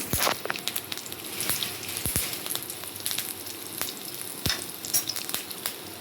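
Curry leaves sizzle while frying over a medium flame, a close, steady hiss dotted with sharp crackles and pops throughout, with no talking.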